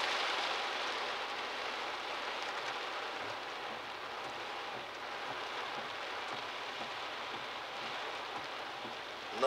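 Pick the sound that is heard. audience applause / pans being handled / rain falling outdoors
rain falling outdoors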